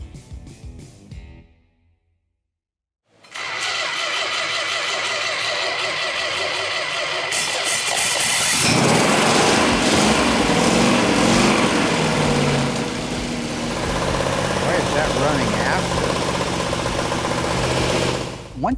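Engine of a 1971 Plymouth Cuda turns over and starts after a brief quiet gap, then runs with a loud, steady mechanical clatter, rises to a harsher rev, and settles back into an even, close idle.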